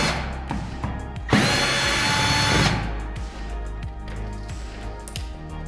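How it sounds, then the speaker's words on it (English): A drill backs out the Phillips head screws holding an old electrical wall outlet. One steady whirring run of about a second and a half stands out over a background of softer clicks and handling noise. "Gonna remove the old outlet with 2 Phillips head screws holding it in."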